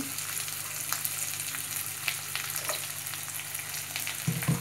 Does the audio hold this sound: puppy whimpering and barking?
no